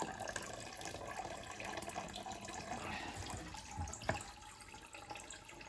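Tap water running into a sink in a honey house under construction, a faint steady splashing hiss throughout with a brief knock near the end.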